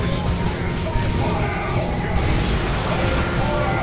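Havoc squad gunfire in the Dawn of War II: Retribution strategy game comes as a dense, continuous wall of battle noise, with booms and crashes blended into a loud, unbroken roar.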